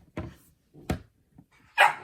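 A puppy indoors gives three short, sharp barks or yips spaced roughly a second apart, close and fairly loud, with quiet gaps between them.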